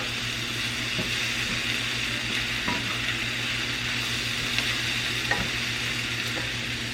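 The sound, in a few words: stirring tomatoes into a pan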